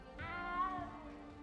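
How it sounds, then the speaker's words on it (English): A cat meows once in the video game Hogwarts Legacy, a short, clear, fairly close mew rising and then falling, with no talk. "You don't need to be frightened, little cat."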